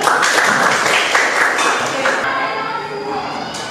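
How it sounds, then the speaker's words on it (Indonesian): A group at a teachers' coaching session claps for a colleague, giving a short burst of clapping mixed with bright tapping and a ringing ping, which fades into a quieter tail. "kasih tepuk tangan yang meriah untuk Mbak Nurul"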